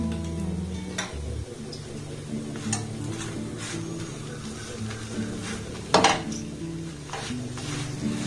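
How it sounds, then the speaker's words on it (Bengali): A paratha made with milk powder fries in a little oil in a pan, a soft steady sizzle beneath faint clinks and scrapes of a spatula turning it, with one sharper clatter partway through. "আর এইভাবে উল্টে পাল্টে কিন্তু আমি একটু লাল লাল করে ভেজে নেব"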